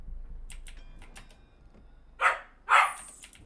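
A dog barks twice in quick succession, fairly loud and close, after a quieter stretch of faint clicking game sounds.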